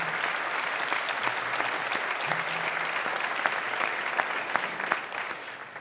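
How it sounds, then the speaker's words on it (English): Concert audience at a school wind ensemble adjudication concert applauds the adjudicators; continuous, moderately soft clapping from a sizable crowd with a few sharper individual claps standing out, sustained throughout. "I'd like to give a quick round of applause to Mr. Martins and Mr. Island for coming out and adjudicating the wind ensemble"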